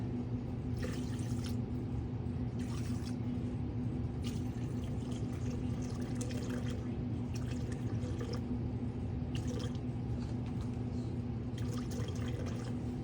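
Water is poured into a bowl for freshly milled no-knead sourdough dough, a steady low trickle with intermittent splashy bursts that runs for many seconds without speech.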